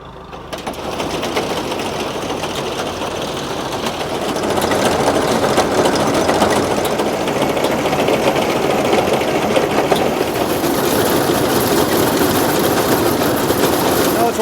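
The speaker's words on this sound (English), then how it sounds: "So this is a hay bine, and it uses a sickle bar on the bottom." A haybine mower with its sickle bar running, pulled by a Case tractor, gives off a dense, continuous mechanical clatter and engine drone that swells after a few seconds and stays loud and steady throughout.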